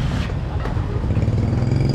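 Dense scooter traffic in a Vietnamese city of over nine million people forms a thick, continuous drone of small engines close by, with no gaps.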